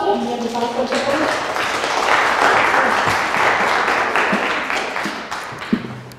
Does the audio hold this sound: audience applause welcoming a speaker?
yes